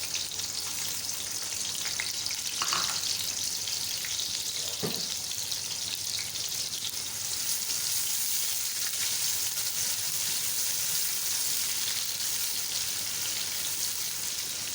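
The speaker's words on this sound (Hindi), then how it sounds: "ऑयल हमारा गर्म हो गया, प्याज डाल दें।" Finely chopped onions frying in hot oil for a lobia keema: a steady, soft hissing sizzle throughout, with a couple of faint clicks near the start.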